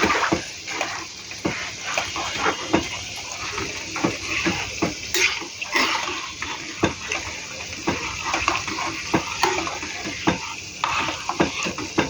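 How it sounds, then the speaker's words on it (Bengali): Water goes into a hot pot of mung dal cooked with fish head, hissing and sizzling on contact with irregular splashing and stirring clatter, loud and close, no voice over it. "দেখুন এই জলটা এবার দিয়ে দেবো।"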